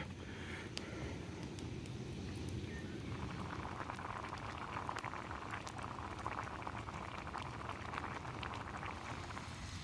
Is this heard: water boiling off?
yes